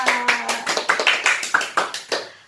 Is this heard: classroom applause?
yes